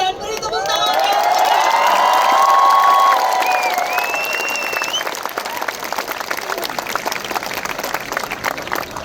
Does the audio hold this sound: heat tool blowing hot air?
no